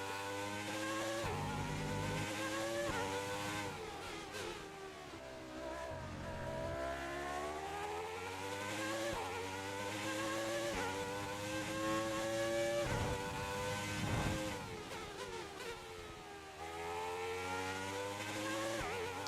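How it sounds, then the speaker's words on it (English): Formula 1 car engine from the F1 2020 racing game, a continuous loud high-revving wail rising and falling through gear changes, with occasional tire squeal, running alone without talk. "figured I'd shut up and let you actually enjoy the engine note for a second"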